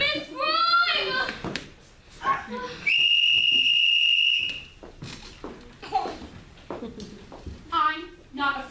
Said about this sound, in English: I'm not afraid of a whistle.